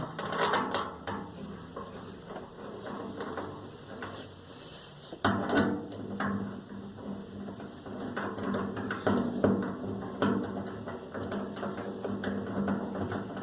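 Bolts being tightened on a black iron fuel tank plate aboard a 1969 trawler, with repeated close metallic ratcheting and clicking at a steady working rhythm amid a hollow mechanical background.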